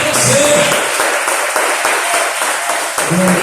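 A church congregation claps together in dense, steady applause through a worship service, with a voice speaking loudly over the clapping.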